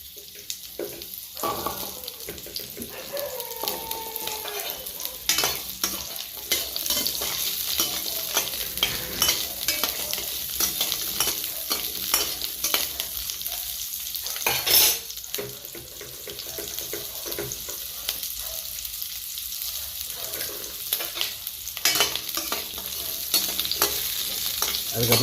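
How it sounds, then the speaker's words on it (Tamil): Small shallots sauté in hot oil in a pan, a continuous close sizzle with scraping stirring strokes running through it and no talking. "முதல்ல சின்ன வெங்காயத்தை போட்டு நல்லா வதக்கி வரலாம்."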